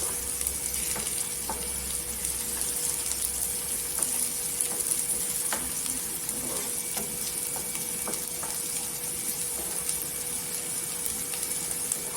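Ginger-garlic paste fries with browned onions in a pan, giving a steady, even sizzle with faint occasional ticks and clicks throughout, no voices.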